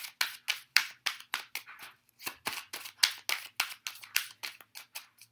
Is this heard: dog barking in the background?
no